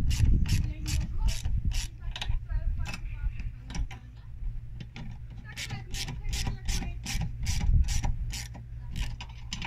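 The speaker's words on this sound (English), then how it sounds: "you can tighten the second nut and use the size 13 wrench to counter the nut from the bottom" Ratchet wrench tightening nuts while a trunk is mounted on a Super Soco TC Max electric motorcycle, close and moderately loud sharp clicking in quick repeated runs with short pauses between strokes.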